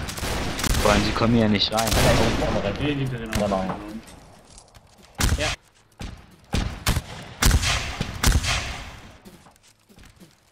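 Gunfire in a multiplayer war video game set among Civil War–era soldiers: someone talks at first, then a series of sharp, loud gunshot bursts follows in an irregular rhythm with short gaps between them.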